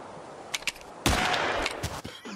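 Gunfire in the video game Nocturnals: a couple of faint pops, then a louder sharp blast followed by several more scattered shots and clatter, close and punchy.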